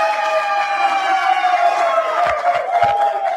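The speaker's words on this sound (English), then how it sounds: "what a cheering section" Crowd at a political event at a golf club cheering and whooping, sustained and fairly loud, with a few low thumps near the end.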